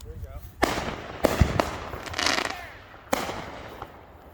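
Backyard consumer fireworks set off by a family go off in several sharp, loud bangs spread across a few seconds, with crackling bursts between them, while people talk nearby.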